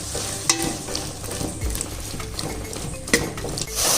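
Chopped tomatoes and green chillies sizzle in hot oil for pickle while a spoon stirs, with close, steady frying and a few sharp scrapes and clinks against the pan.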